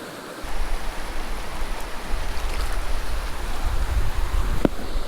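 A creek rushes over small rapids of white water, giving a continuous, fairly loud wash of noise with no voices.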